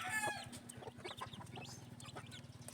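A mother hen clucks softly and rhythmically beside her young chicks, with brief high peeping at the start, all quiet and fairly close.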